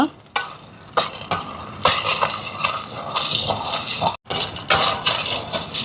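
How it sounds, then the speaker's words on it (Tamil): Peanuts being roasted in a pan on low heat give off bursts of dry rattling and scraping as they are stirred, close and fairly loud, with short pauses between strokes. "இப்போ பாருங்க கச்சான் வறுபட்டுட்டு பார்த்திங்களா"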